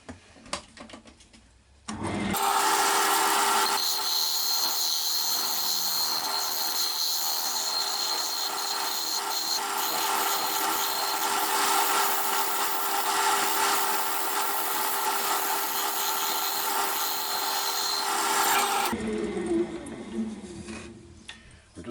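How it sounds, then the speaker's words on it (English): A wood lathe turns an ash bowl while a round-tip carbide cutter takes finishing cuts, making a continuous loud, rough scraping whir that holds steady for about sixteen seconds before stopping, with quieter handling noise at either end. "I've just got to carry on now with the round tip carbide cutter and put some nice finishing cuts on"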